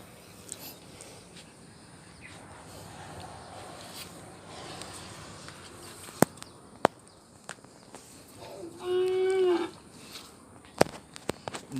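A very tame farm cow gives a single drawn-out moo near the end, preceded by quiet outdoor ambience with a few sharp knocks and faint rustling.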